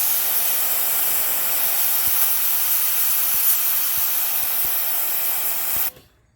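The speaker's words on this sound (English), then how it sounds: "once you start spraying, all the bricks get wet." A steady, broad hiss of water spraying onto bricks runs continuously for several seconds, close and even, then cuts off abruptly.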